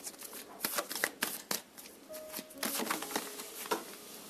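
Tarot cards being shuffled by hand, a steady run of crisp riffling and slapping card sounds, close and fairly quiet, with no talking.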